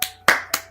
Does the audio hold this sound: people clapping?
yes